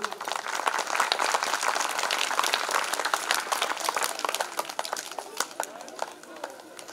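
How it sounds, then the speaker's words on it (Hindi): An audience of parents applauds the children at a school event, a dense crowd clapping that holds steady before thinning into scattered individual claps. "हमारे बच्चों के लिए जोरदार ताली बजा लो।"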